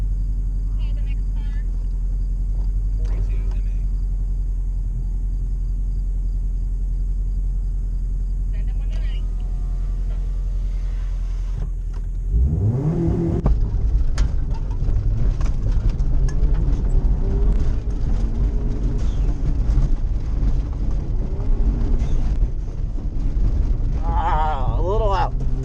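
A rallycross car at a regional event idles with a low steady rumble, then its engine surges loud and rough as it accelerates hard, the roar and drivetrain noise filling the rest of the run close up from inside.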